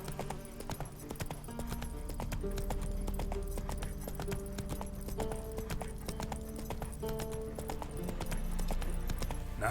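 Roach, a horse in The Witcher 3, gallops in a fast, steady clip-clop of hooves, close and continuous, with faint ambient sound beneath.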